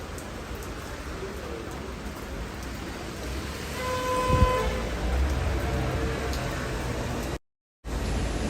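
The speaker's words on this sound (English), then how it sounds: "Let me show you more of the rain." Steady rain falls over a Paris street as an even, close hiss of drops, with a faint tonal sound in the middle and a brief cut near the end.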